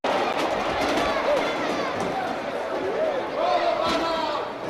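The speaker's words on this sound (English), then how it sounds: "the crowd noise at the end, where you get to hear a crowd booing somebody" A large arena crowd from the Prize Fight sound-effect library sample roars and boos continuously at a steady loud level, with shouted voices and jeers rising out of the dense babble.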